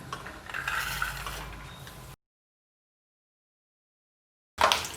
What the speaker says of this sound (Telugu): అదే ఆయిల్లో ఇప్పుడు వీటిని ఫ్రై చేసుకుందాం